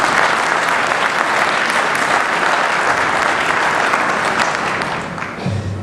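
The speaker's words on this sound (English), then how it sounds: "Could we please give her another round of applause?" An audience at a high school Hall of Fame induction ceremony gives the MC a dense, even round of applause that holds steady before tapering off near the end.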